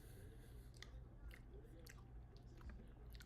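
Someone chews a juicy chicken nugget close to the mic, with soft, quiet, moist crunching and squishing bites in an irregular rhythm, faint against a low background hum.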